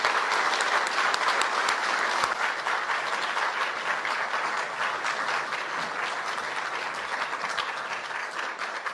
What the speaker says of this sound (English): Please let's give a big round of applause to our 2022 International Aubuchon honoree